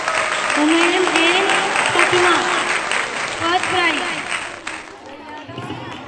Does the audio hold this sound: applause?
yes